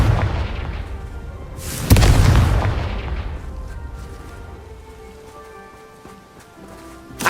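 A Confringo fire spell erupts in Hogwarts Legacy as a single loud, close boom, followed by a long, fading rumble under steady game ambience.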